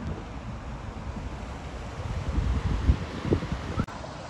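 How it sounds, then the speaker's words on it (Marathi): A river in Wayanad, Kerala makes a steady, low rushing roar, with wind-like rumbling swelling slightly toward the end and no voices. "मस्त अशी नदी वाहते इकडून आणि असं पाणी चालू आहे याच्यावर."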